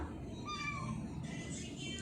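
A cat meows a couple of times, close and fairly soft, over a low background rumble and faint household noise.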